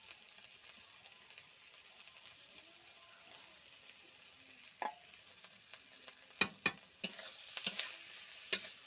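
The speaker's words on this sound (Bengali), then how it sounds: "ভালো করে নেড়ে নিচ্ছি।" Crushed ginger and garlic stirred in a pan while making biryani, with faint scraping and soft sizzling, then a few sharper clinks of the spoon against the pan near the end, no voices.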